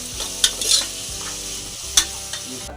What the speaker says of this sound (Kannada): ಟಮಾಟೊ ಹಾಕ್ತಿದ್ದೀನಿ ನೋಡಿ ಬನ್ನಿ ಎಲ್ಲ ಟಮಾಟ ಹೇಗಾಗ್ತದೆ ಯಾವ ಥರ ಫ್ರೈ ಆಗಿದೆ